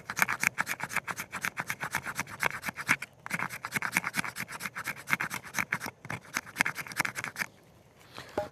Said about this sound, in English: And then we'll just do a little scraping here.